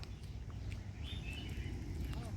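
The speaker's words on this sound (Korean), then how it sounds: "새소리들이 너무 좋고" Birds chirping faintly at a distance on a morning walk along a flower path at a Macau hotel resort, soft scattered tweets over a steady breezy outdoor background.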